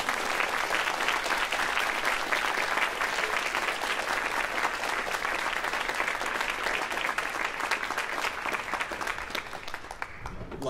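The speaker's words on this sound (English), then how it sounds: "Please give a round of applause." Sustained audience applause at a university video game jazz ensemble concert, a dense wash of many hands clapping steadily for about ten seconds before tapering off at the end.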